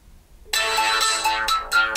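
Jeasung A2 mobile phone ringing on an incoming test call, a ringtone melody starting after a brief quiet lead-in and playing steadily and fairly loud to the end, with no talk over it.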